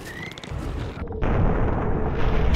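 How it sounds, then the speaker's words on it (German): A loud gunshot blast in the Western shooter Call of Juarez, a sharp burst followed by a sustained rumbling boom that fills the rest of the moment. "Jetzt hat er aber einen Schuss abgegeben."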